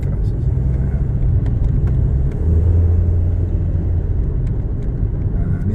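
A 2006 Toyota Yaris engine runs with a steady, loud rumble and smooth revving hum close by, with no clear pauses in the sound.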